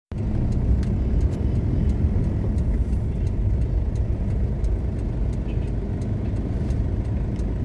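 A truck on the Maharlika Highway (Pan-Philippine Highway) gives a continuous, loud low road rumble and engine drone, steady for several seconds with no clear peak.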